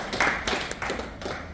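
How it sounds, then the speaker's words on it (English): An audience claps at a university faculty orientation session, a short burst of scattered hand claps with soft background noise and no voices. "Please clap."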